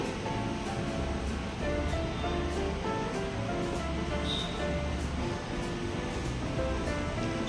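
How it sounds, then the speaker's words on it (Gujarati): A mixer grinder runs continuously grinding thick gravy without water, a steady whirring roar with a faint motor whine that never pauses. "ગ્રેવીને મિક્સર જારમાં એડ કરી દેવાની છે અને બિલકુલ પાણી એડ કર્યા વગર એકદમ સ્મૂથ તેને પીસી લેવાની છે"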